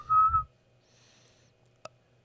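A person whistles a short, clear, fairly loud note by mouth near the start, followed by near silence with a faint click and a brief tap.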